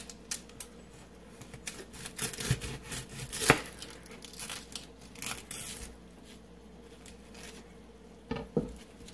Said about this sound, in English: I got this big beautiful onion right here. And I'm just going to cut off the end.